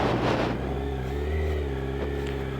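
Kawasaki Z900 naked sport bike engine running steadily close by as the ride begins, a loud continuous low rumble with strong engine harmonics, a slight rise in revs near the middle and no talk over it.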